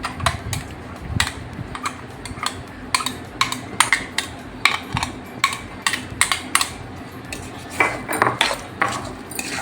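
Mango pulp being added to a pan and mixed gives a run of sharp utensil clacks and scrapes against the pan, irregular and close, with no voices.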